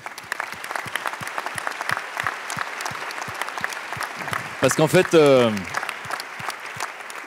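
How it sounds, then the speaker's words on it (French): A conference audience applauds steadily, crisp claps rattling throughout, while someone speaks briefly over the clapping near the end. "je voudrais qu'on l'applaudisse"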